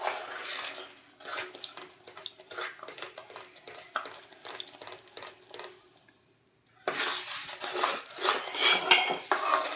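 Mysore pak mixture being stirred in a pan, giving scraping and clinking utensil-on-metal sounds in bursts, with a brief quiet stretch and then louder, busier scraping toward the end.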